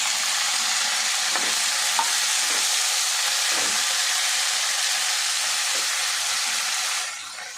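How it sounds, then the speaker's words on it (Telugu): Steady sizzle of chopped ivy gourd frying in a pan over medium flame, a broad continuous hiss with occasional soft stirring knocks, fading slightly at the end. "మీడియం ఫ్లేమ్ మీద మంచిగా ఫ్రై అవ్వనివ్వాలి, ఉడకనివ్వాలి."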